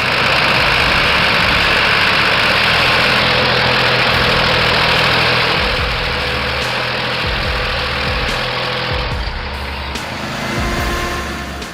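Two tractors, an IMT 533 and a Universal 445, straining against each other in a tug of war, their engines droning loudly and steadily, thick low rumble with a fading edge toward the end; no talking.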